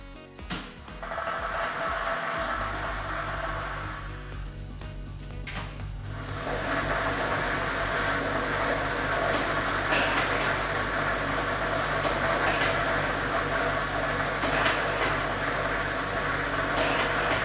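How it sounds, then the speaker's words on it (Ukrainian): A lottery drawing machine (lototron B, ball set number 3) for a Ukrainian state Loto Maksyma draw starts up after a quiet few seconds, then runs with a steady whirring rush and scattered clatter of tumbling balls. "Тиражна комісія до початку гри довільно обрала лототрон Б комплект кульок номер 3 І ми вмикаємо лототрон."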